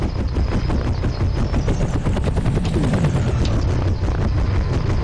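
A helicopter drops soldiers into a firefight in the F.E.A.R. video game, its steady rotor chop mixing with rapid bursts of gunfire throughout.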